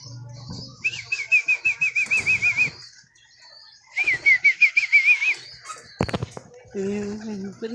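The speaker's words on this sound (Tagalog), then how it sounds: "Papalipa rin natin itong mga kalapatids." Racing pigeons take off in two bursts of rapid wing clapping, with soft coos and a whistling tone alongside, close by and separated by quiet gaps, followed by a short sharp knock and a voice at the end.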